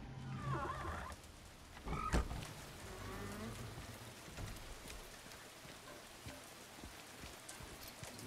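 Rain falling in the video game Silent Hill 2 Remake, a soft continuous patter and hiss that runs steadily on its own after a brief voice and a couple of sharp knocks at the start.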